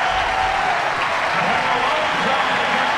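A home crowd in the west stands roars steadily as runners come down the finishing stretch of a men's 1500m heat at the 2018 NCAA Track Championships, with a commentator talking over the sustained cheering.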